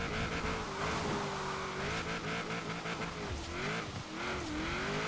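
A twin-turbo V8 Nissan 240SX SE drifts in Forza, its engine droning loud and steady with pitch rising and falling as the revs shift, tires squealing through the slides without a break.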